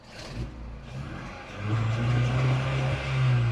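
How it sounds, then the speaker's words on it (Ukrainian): A used car for sale cranks and starts with a rough rumble, settling into a loud, steady idle close by after a brief starter noise. "Трошки заводиться з грохотом"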